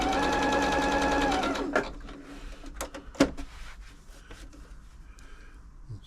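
A Janome Atelier 6 sewing machine runs a wide, long zigzag stitch, humming and clattering steadily up close for under two seconds before stopping, followed by scattered handling clicks and taps.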